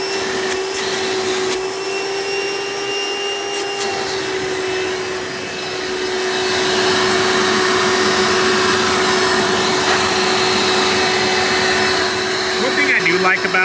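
A Hoover Runabout Elite U4258-930 upright vacuum cleaner runs loudly and close, a steady motor whine with rushing airflow that swells partway through, while someone talks over it.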